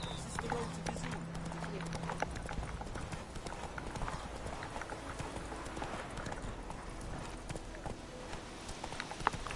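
Hooves of Roach, a horse in The Witcher 3, clip-clop at a steady gallop, close and continuous, with game ambience and scattered background sounds around the running rhythm.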